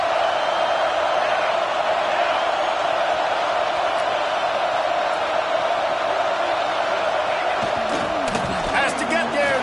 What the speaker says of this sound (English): Fourth down, and this crowd trying to help this defense rise to the occasion.